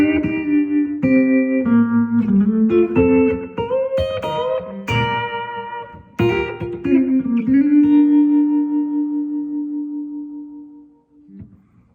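A sustained electric guitar lick with bending, sliding notes in a pedal steel manner, played alone and ringing out to a fading final note.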